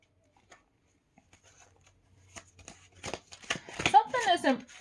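Tarot cards shuffled and drawn in a soft run of riffles and slides, quiet at first and growing busier toward the end, with a voice speaking over the later part.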